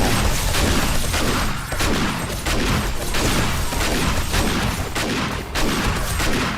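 Dense, relentless gunfire roars through a zombie horde battle in 7 Days to Die, a loud shotgun firing repeatedly among overlapping booms with little pause between blasts.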